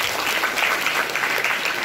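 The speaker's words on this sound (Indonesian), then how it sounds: "Tepuk tangan buat Raya." Audience applause for a participant named Raya at a vocational school's student orientation session in Jakarta: a steady, dense clapping that fills the whole short stretch at an even level.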